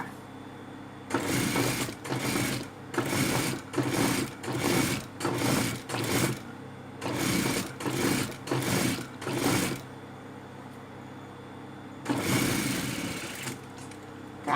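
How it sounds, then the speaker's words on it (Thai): A sewing machine stitching a curved fabric edge runs in about ten short whirring bursts separated by brief pauses, close and loud, then starts once more after a longer gap. "ขั้นตอนนี้นะคะ เราจะต้องเย็บเล็งให้ ให้ตีนผีเนี่ยอยู่ที่เส้นนะคะ"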